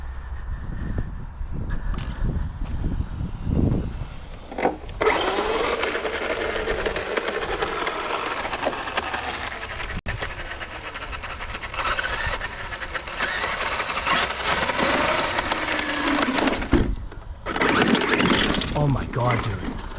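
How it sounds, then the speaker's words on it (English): A Redcat Racing Vigilante RC car with a blown rear differential drives in bursts, a harsh mechanical whine and grinding clatter that surges and drops with brief pauses, while people talk over it. "Rear diff is completely blown again."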